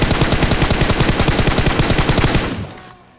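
Rapid automatic gunfire in the PUBG video game rattles in one continuous loud burst of evenly spaced shots, then cuts off and fades into a short tail near the end.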